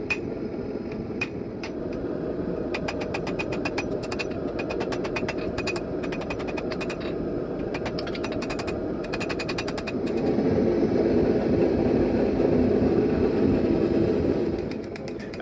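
Hot steel is hammered over an anvil horn while forging a knife handle, rapid bursts of sharp ringing metallic strikes in clusters over a steady roaring forge or blower hum.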